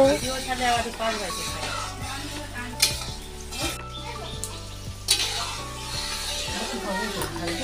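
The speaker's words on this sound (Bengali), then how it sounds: "তো দিদি মটনটা রান্না করছে" Mutton frying as kosha in a pan, a steady sizzle with stirring scrapes and the clink of a utensil against metal, while people talk nearby.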